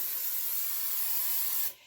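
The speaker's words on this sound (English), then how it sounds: "And I am going to spray, well, my pan." A nonstick cooking spray with flour mixed in hisses into a cake pan in one steady, close burst lasting under two seconds before cutting off sharply.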